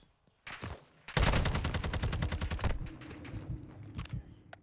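Rapid automatic gunfire in a 2v2 Call of Duty match, a short burst followed by a longer sustained volley of close, loud shots, then scattered trailing bursts.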